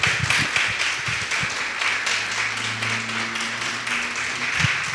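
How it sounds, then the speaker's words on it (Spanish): Audience applause during a church sermon, continuous clapping from the congregation with some low background tones underneath. "Dale un aplauso a Cristo, por favor."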